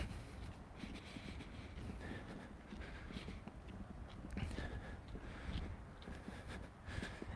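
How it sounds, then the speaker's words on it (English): Low, rumbling wind buffeting a microphone outdoors, a steady gusty roar with soft thumps and faint background sounds. "It's a little windy. I hope my windscreen is doing a good job of blocking out the wind"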